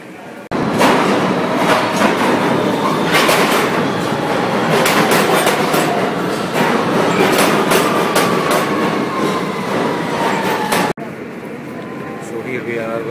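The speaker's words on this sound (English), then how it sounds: "So here we are, we're on the N train going north." A Queensbound N Express subway train rides through New York with a loud, steady rumble and dense clattering of wheels on rails, ending in a sudden drop to quieter track noise.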